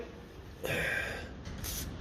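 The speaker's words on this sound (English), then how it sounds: "spray him down with a bit of penetrating oil" Short hiss of penetrating oil sprayed from an aerosol can onto a corroded alloy Lucas D3A4 distributor during an overhaul, one burst of about a second followed by a second, shorter burst, close to the microphone.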